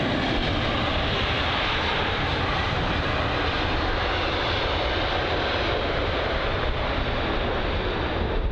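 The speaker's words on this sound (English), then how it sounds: "next up we've got a Swiss, I think that's the A320neo" A Swiss Airbus A320neo arrives from Zurich at London Heathrow, producing a loud, dense, continuous engine roar close by, steady from start to finish with no voices over it.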